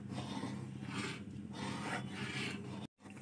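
Tikhur halwa being stirred continuously in a heavy-bottomed pan, giving a soft repeated scraping and rubbing sound in steady sweeps, close but quiet, with a brief dropout near the end.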